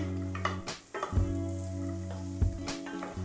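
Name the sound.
sautéing garlic and onion in a pan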